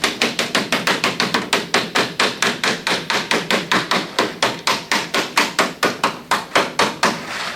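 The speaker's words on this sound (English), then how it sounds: "When you have it completely locked like that, then you take the anvil and come and close her up tight." Steady run of sharp metal taps as a hand anvil closes a double-lock standing-seam metal roof seam tight, about four strikes per second, close and loud, with no talking.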